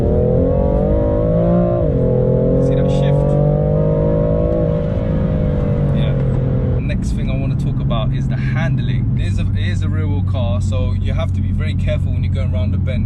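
A BMW M4 Competition engine revving hard past 6,000 RPM, a loud rising howl that drops at each gear change, with someone talking over it in the cabin.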